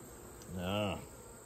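A single honeybee buzzes close past a weak beehive, one brief rising-and-falling drone in an otherwise quiet moment.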